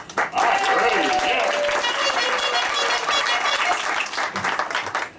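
An audience at a live Nashville country radio show breaks into loud, continuous applause for the musicians, with dense clapping and some crowd noise that carries throughout.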